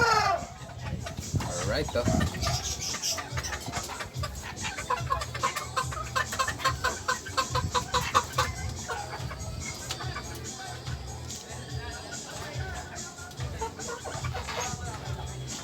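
Sebright bantam chickens cluck and chatter close by in a small backyard coop, steady overlapping bird calls running throughout, with someone speaking briefly over them.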